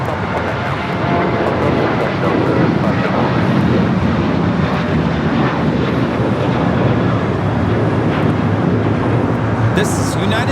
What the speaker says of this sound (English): 2741 taking off to Las Vegas on the 737-800